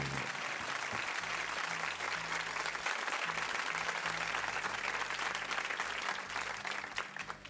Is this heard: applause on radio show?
yes